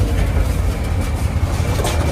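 Steady, loud rumble and rattle inside a moving Dubai Metro train car, a continuous low drone with no talk.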